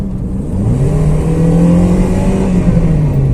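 An automatic Toyota Yaris engine rises in pitch and loudness as the gearbox kicks down and the car accelerates. The revving is loud and close, heard from inside the car with no voices.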